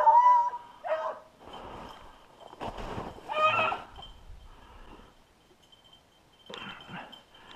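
Hunting dogs giving excited barks, yips and whimpers while chasing a young rabbit outdoors, a burst of clustered calls then a pause before more barking, moderately near with no talk.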